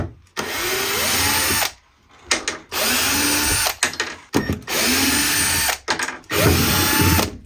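A power drill backs screws out of a shelf in a model train room, with several loud whirring bursts of a few seconds each separated by short pauses, close and dominant.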